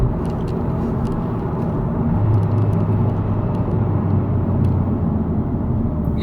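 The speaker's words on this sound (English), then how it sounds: "And I'll do some downshifting." Car fitted with a Greddy cat-back exhaust cruising and downshifting, heard as a steady, low, muffled rumble from inside the cabin, with only slight rises in engine note and no clear rev spikes.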